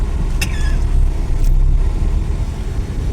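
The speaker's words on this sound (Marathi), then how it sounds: "जाम आहे अख्खा ट्रॉफिक आहे." Cars and loaded tempos sit jammed on a highway in rain, a loud steady engine rumble with a brief high squeal near the start. No one speaks.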